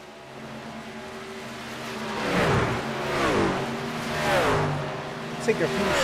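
Race trucks roar around Homestead-Miami Speedway during a night Truck Series championship race under green flag, engine drone rising and falling in several loud passing swells over a steady broadband din, with a commentator talking throughout.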